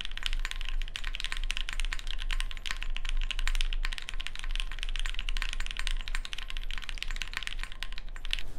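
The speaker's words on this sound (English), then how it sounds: "once that we raised the board off of the table, you can hear case ping" Tofu 60 mechanical keyboard raised on bump-on feet, typed on continuously with dense, rapid clacking and a ringing case ping beneath the keystrokes, heard close with no talking.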